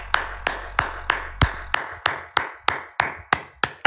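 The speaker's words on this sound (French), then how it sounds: "Applaudissez pour nous." An audience at a Togolese speech claps in unison, about a dozen sharp, evenly spaced claps in a steady rhythm at close range, with no voices.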